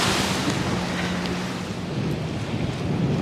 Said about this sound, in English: And waves coming up over this break.